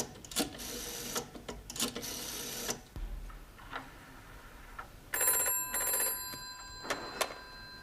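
A telephone rings in bursts of rapid electric bell trilling separated by pauses, fairly faint and set against a quiet room with small clicks and a mechanical rattle between rings.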